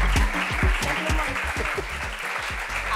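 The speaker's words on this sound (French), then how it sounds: "arrêtez d'applaudir maintenant" Applause from a live audience at a French stage show, dense sustained clapping throughout with punchy low thumps from nearby hands, steady and loud with no pause.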